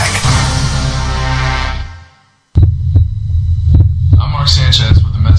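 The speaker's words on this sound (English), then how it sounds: "This is the actual sound of my heartbeat." A recorded human heartbeat plays as a steady low throbbing pulse with a faint hum, starting after a brief drop to silence and continuing loud and close to the end.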